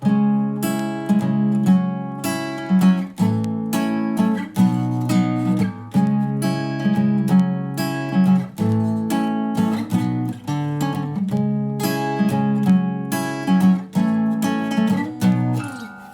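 A guitar strums a repeating cycle of four chords in a steady rhythm, loud and close, with no voices.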